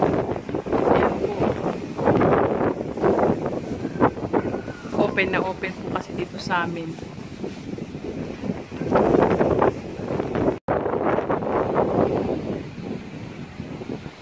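Strong typhoon wind gusts under Signal No. 2 sweep past a house in Bataan, heard from the second floor as steady broadband roaring that swells and eases, with a person talking over it throughout.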